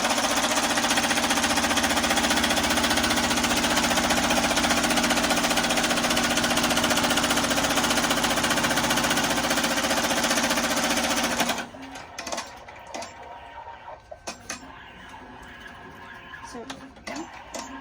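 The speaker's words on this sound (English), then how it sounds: "So the first line that it's going to sew is where to place everything." An embroidery machine stitches the first placement line for an in-the-hoop sanitizer bottle holder, a loud steady rapid whirring and needle chatter that cuts out after about twelve seconds, leaving quieter handling noises.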